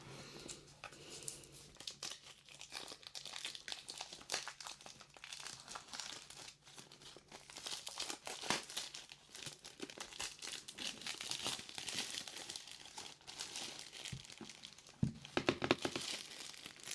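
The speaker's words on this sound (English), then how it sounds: "Let's open it and see the messages of this Oracle card deck." A Psychic Tarot Oracle card deck being unwrapped, its plastic and packaging giving continuous close crinkling and crumpling with occasional tearing, louder bursts toward the end, with no voice.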